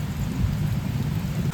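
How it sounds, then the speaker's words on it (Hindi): Heavy rain pours down at night in a city, with a deep, continuous rumble of thunder under the dense, loud hiss of falling water. "जैसे हमारा डेस्टिनेशन आया वैसे बारिश शुरू हो गई"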